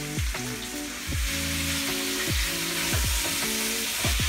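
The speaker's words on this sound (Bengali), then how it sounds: "সেদ্ধ চিকেনটাকে আমি এখন একটু ভালো ফ্রাই করে নিচ্ছি যাতে আরও টেস্টি হয়।" Boiled chicken pieces fry and sizzle steadily in a hot pan for Yakhni pulao, a loud, continuous crackle with occasional stirring scrapes close to the microphone and no voices.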